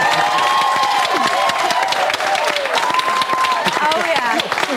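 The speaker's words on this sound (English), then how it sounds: "The biggest round of applause out of all of them." A studio audience erupts in loud applause and cheering, with whoops and shouts over a continuous roar of clapping, while a presenter's voice cuts through.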